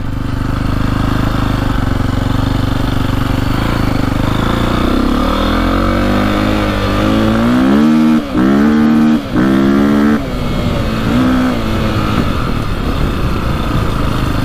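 A KTM 450 motorcycle engine, just repaired, revs loudly and continuously while being ridden, its pitch climbing and dropping through several sharp throttle blips near the middle before settling back to a steady drone.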